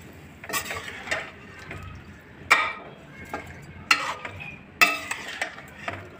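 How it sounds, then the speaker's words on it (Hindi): Potatoes being stir-fried for spiced sour aloo chaat in a pan, with a utensil scraping and clinking against the metal in irregular strokes over a faint sizzle, fairly close and with no talking. "अब इसको हमें भून लेना है।"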